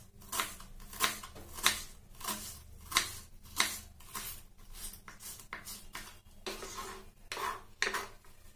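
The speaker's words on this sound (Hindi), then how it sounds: "प्याज को भी इसी तरह हम काट लेते हैं। बहुत बारीक काटना है हमें।" Onion chopped very finely with a knife on a board, a rapid series of crisp close taps in a steady rhythm, slowing into irregular cuts toward the end.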